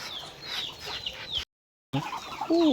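Chickens cluck and chatter close by in a busy, continuous flock sound, broken by a brief silent gap.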